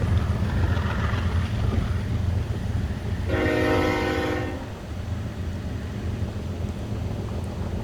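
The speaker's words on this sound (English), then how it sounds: "The air horns of freight trains." A freight train's air horn sounds one steady, loud chord of stacked tones for about a second, over continuous rumbling railway background noise in a sunny desert setting at Daggett.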